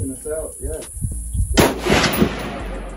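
A rifle fires at a 100-yard shooting competition, one sharp report cracking out after someone talks briefly, followed by a lingering echo under the remaining moments.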